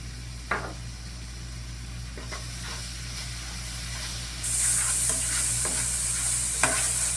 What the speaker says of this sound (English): You want the garlic to cook but not burn, so you're going to stir for 1 minute